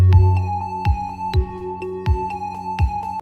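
Soundtrap software bass drum with its high frequencies pulled down by EQ, landing as five rounded, low thuds at a steady pulse over a sustained synth pad and higher notes.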